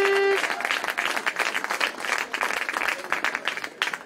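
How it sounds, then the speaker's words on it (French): Crowd applause at a college football game for player Philippe Lessard, steady dense clapping throughout with a brief tone at the start. "Bon applaudissement numéro 4,"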